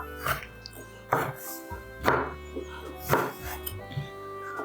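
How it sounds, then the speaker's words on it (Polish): A knife chops guanciale on a board in five evenly spaced, firm strokes about one second apart, close by, with a low hum underneath. "A kroimy guanciale na e, kawałki."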